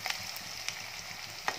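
Onion frying in a pan for a mutton dish, a soft continuous sizzle with a few light stirring taps, fairly quiet and without talk.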